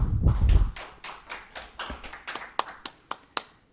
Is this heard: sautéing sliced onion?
no